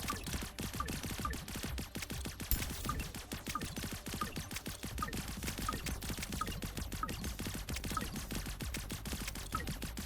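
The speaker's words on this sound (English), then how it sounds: "Gun go burr." Rapid gunfire in the video game Shape Shifter Formations with a burst module for higher fire rate, a dense, steady stream of quick shots continuing throughout at moderate level.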